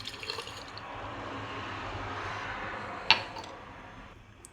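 Vinegar is poured into a large jar for crunchy cucumber pickles, producing a steady close liquid gush. It has a sharp clink near the end before the flow tapers off.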